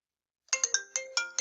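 Electronic phone ringtone of an incoming Google verification call, a bright chiming pattern of quick repeated notes that starts abruptly after silence and rings close and clear.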